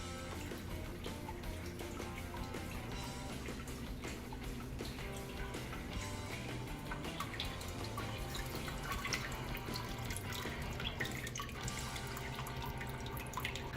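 Sparge water pours steadily into a pan while a 10-gallon batch of Kölsch-style beer with Ella hops is brewed, a continuous splashing, trickling stream lasting throughout with no voices.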